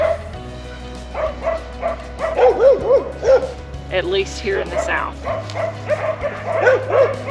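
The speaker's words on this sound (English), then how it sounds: "I don't know what the dogs are barking at." Several dogs bark and yip in short bursts at a moderate distance, while a person talks over them throughout.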